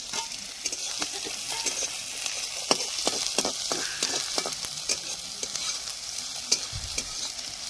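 Onion for momo filling fries in a pan, a continuous crackling sizzle with busy, irregular scraping and stirring strokes, close by and with no talking.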